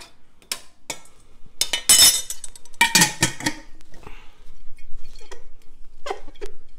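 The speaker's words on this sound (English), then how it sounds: "I'm going to rinse the jar out altogether." A glass jar used in tincture pressing is rinsed out, with sharp clinks and knocks of glass in irregular bursts mixed with splashing water, close by and alone.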